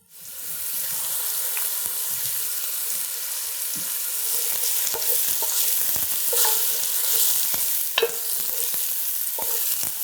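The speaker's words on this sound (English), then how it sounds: "You just want to give them a little stir once in a while and let them start to soften." Onions fry and sizzle steadily in a pan, with scraping clicks of a spoon stirring them now and then, close and alone without talk.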